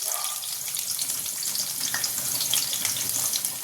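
Plenty of garlic dropped into hot oil in a wok for frying greens, giving a close, bright crackling sizzle with irregular pops that holds steady throughout.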